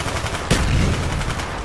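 Submachine gun fire in Call of Duty: Black Ops 1 multiplayer comes as a rapid, loud burst of shots, followed by a continuous crackle of further gunfire.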